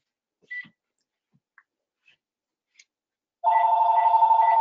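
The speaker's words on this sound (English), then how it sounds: "I just got a phone call" After a few faint scattered sounds, a telephone starts ringing loudly with a steady electronic warbling tone that continues without pause to the end.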